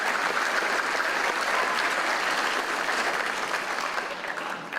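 A crowd at an 8th grade graduation applauds staff and administrators, with dense, steady clapping throughout that tapers slightly at the very end.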